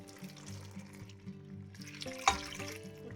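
Water is poured into a cooking pot of potatoes for kefir strudel dumplings, a short burbling pour with a splashy surge near the end.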